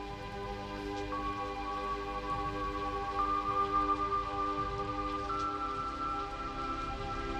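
Steady rain falls in the Blade Runner tears in rain scene, a continuous soft patter under sustained tonal music with no speech.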